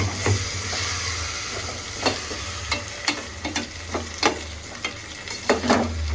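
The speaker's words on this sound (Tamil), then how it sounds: "அந்த தக்காளி சாறு டொமேட்டோ அரைச்சி வச்சுருக்கேன் இல்லைங்களா, அதை ஆட் பண்ணிடுறேன்" Ground tomato juice hitting a hot frying pan, giving a steady close sizzle with a low hum beneath and repeated sharp scraping clicks of stirring, no voices.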